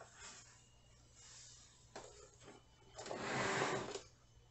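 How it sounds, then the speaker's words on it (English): A sewing machine running a straight quarter-inch seam on a scrunchie, its quiet whirring motor rising and falling in short stretches, with a longer, louder run near the end. "you're going to sew a quarter of an inch seam going straight down"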